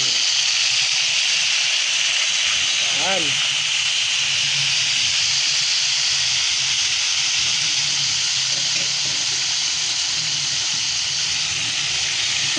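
Steady, loud sizzling of salagubang beetles frying in a pan fills the whole clip, with a brief voice near the start.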